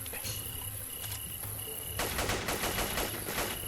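Rapid bursts of machine gun fire come from the Zomborg video game, a quiet, crackling rattle that grows denser and sharper halfway through over a faint steady electronic whine.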